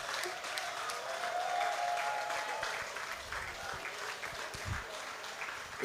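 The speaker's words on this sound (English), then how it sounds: "Everyone, please stand up and get some applause." Applause fills a launch event for the Complete Farmer team's grower and buyer platforms as the audience stands, a steady wash of clapping from a crowd that carries on for several seconds with a few louder bursts near the end.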